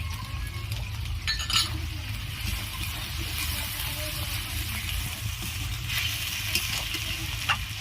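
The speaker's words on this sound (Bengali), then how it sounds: "মশলাটি আমি ভালো করে ভেজে নেব।" Chopped tomato and spices fry in a pan for a jackfruit and prawn curry, giving a steady close sizzle with occasional clinks of a utensil against the pan throughout.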